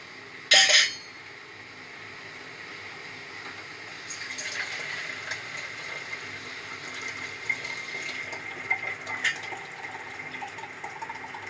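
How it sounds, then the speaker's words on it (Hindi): Hot biryani stock mixed with plain water is poured into a large cooking pot, a brief sharp clatter at the start, then a steady, moderately loud stream of running, splashing liquid with no talking. "ये यखनी और जो सादा पानी हमारे पास था वो हमने मिक्स कर डाल दिया है देचकी में"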